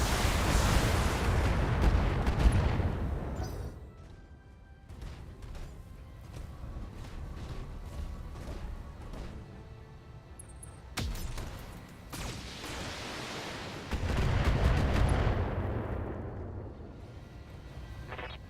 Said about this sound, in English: Let's turn that off and just fire the SRMs.